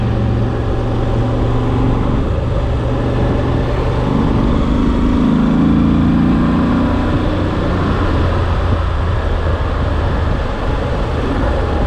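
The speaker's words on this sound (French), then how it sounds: "Le moteur est très souple, hein, il reprend très bas dans les tours." A Moto Guzzi V85TT motorcycle engine runs on the road, a steady low rumbling drone mixed with continuous wind roar, loud and unbroken throughout.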